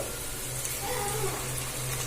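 Ginger garlic paste frying in a pan with whole spices, a soft steady sizzle, short and fairly quiet, with no talking.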